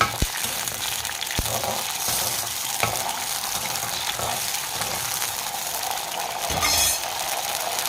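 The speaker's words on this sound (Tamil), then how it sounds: "வெடிக்க ஆரம்பிச்சிருச்சு" Spices and lumps of asafoetida crackle and sizzle in hot oil for vetha kuzhambu, a close, continuous frying hiss with scattered sharp pops and a louder burst near the end.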